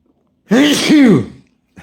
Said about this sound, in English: And I got to sneeze again.